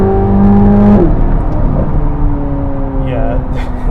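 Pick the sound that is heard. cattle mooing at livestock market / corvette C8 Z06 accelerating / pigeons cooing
corvette C8 Z06 accelerating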